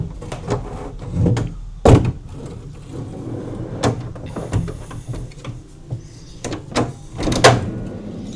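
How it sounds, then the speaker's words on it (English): Storage unit drawers slide back in after post-camping maintenance, giving a series of scraping glides and several sharp knocks and thunks at irregular intervals, up close, with no one talking. "slide the drawers back in"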